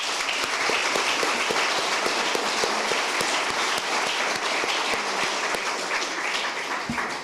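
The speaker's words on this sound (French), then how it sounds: "Je vous demande d'applaudir donc Victor Aubert." A hall audience at an evening awards event breaks into dense, sustained applause, many hands clapping evenly and loudly, close and continuous without talk.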